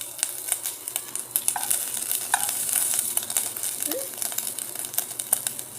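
Succulent plant leaves fry and sizzle in a pan with a steady, faint hiss, broken by scattered crackles and pops and a few soft stirring scrapes.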